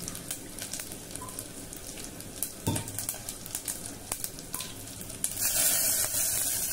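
A rasam tempering sizzles and crackles steadily in a hot pan, close and continuous, with scattered sharp pops and a louder hissing surge near the end; no one speaks.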